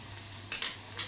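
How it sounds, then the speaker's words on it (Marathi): Onion frying in a pan, a faint steady sizzle with a couple of brief stirring scrapes, quiet and short. "कांदा नेहमी थोडा फ्राय करावाच लागतो"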